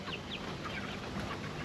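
A chicken clucks faintly in short soft calls scattered through a steady outdoor background hiss, with no talk.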